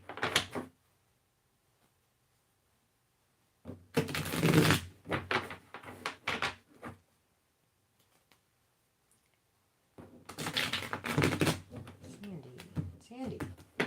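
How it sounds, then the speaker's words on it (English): Tarot reading cards being shuffled in two bursts of crisp riffling and clicking, separated by a quiet gap and sounding close and moderately loud. "Cards didn't want to shuffle."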